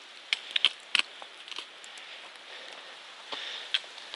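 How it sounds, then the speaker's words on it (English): Scattered water drops falling from wet tree limbs onto a mountain trail after rain, soft irregular ticks and patters, a few closer and crisper, over a quiet outdoor background. "It's not raining, it's just the water falling off the tree limb still."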